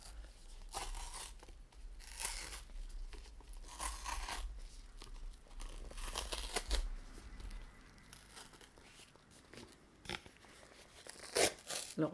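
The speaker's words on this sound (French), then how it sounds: "Je vais tout déchirer en espérant ne pas abîmer le savon." Crinkly tearing and crunching of a thin soap mould, in irregular bursts close by, with soft handling noises between rips.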